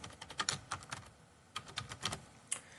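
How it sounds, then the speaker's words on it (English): Keystrokes on a computer keyboard, typed into a spreadsheet, coming as quick close clicks in two short bursts with a brief pause between. "I'm going to type school budget,"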